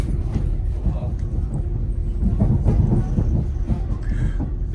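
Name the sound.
train pulling into Sheffield station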